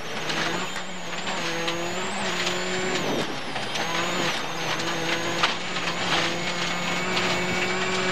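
A Skoda rally car with a 5-speed gearbox driving fast in fifth gear on a rough stage, a loud sustained engine drone with tonal whine and some tyre and road noise, heard from inside.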